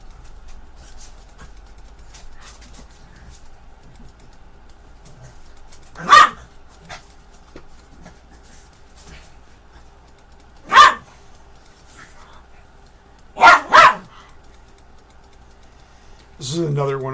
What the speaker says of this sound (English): those my dogs barking